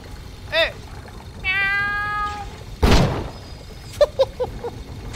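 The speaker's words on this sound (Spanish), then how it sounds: "¡Otro gato!" Cat meowing in the video game Bioshock: several close, loud meows, one drawn out and tonal, followed by a heavy thump and a quick run of short clipped cries.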